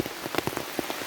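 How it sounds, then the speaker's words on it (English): Heavy rain pattering on a forest hiking trail in the Laurel Highlands, a steady dense wash of drops with scattered sharper splats close by, no voices. "it's pouring down rain"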